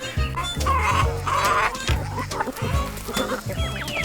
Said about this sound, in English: But chickens eat a variety of things.